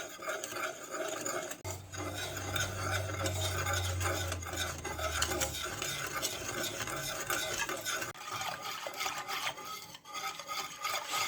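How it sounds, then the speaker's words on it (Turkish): Dry ingredients with lemon zest and egg yolk are stirred in a bowl for a lemon biscuit dessert, a continuous scraping, rubbing swish with a low hum beneath, close and moderately loud. "bir limon kabuğu rendesi, ilave edip ilk olarak önce kuru malzemeleri bir karıştırıyoruz"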